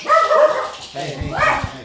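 Dogs bark and yip at close range during a lively comedy show, the barks overlapping with people talking loudly.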